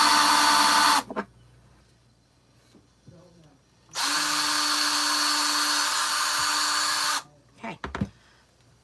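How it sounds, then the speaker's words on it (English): A power drill runs in two bursts through a star cutout on a table, one short and one about three seconds long, with a brief spoken word and handling noises between. "I gotta be careful because I obviously don't want to drill through my table"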